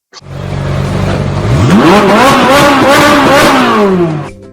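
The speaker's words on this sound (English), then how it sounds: "once that Ferrari F136 fires to life, this is no Bandit tribute" A Ferrari F136 engine fitted in a Trans Am fires up and revs hard, its pitch climbing into a sharp, metallic scream, holding high, then easing down. The sound is loud, close and steady, with no voices.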